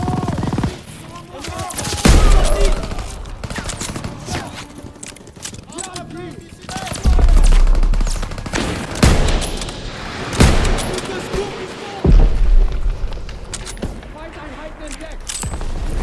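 Call of Duty WWII D-Day battle gameplay with loud, near bursts of machine-gun fire and scattered gunshots and booms over battlefield clamour, while voices shout over the combat.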